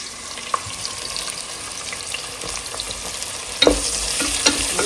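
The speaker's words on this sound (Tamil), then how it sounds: "சேர்த்துட்டு நல்லா வதக்குவோம்" Onion sautés in a pan of hot oil with cinnamon and whole spices, a steady close sizzle with light stirring scrapes and a brief clatter near the end.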